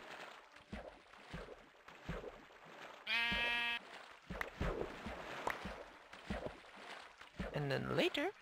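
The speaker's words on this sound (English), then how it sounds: "Shear the sheep." A Minecraft sheep gives one sharp, buzzy bleat midway, loud and close, with another briefer bleat near the end, both surrounded by continuous talking and game noise.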